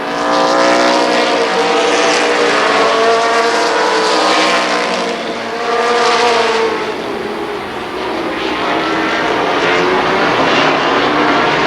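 Winged sprint cars roar around a speedway oval in a continuous loud, droning engine pack, swelling and dipping slightly as they sweep through the turns.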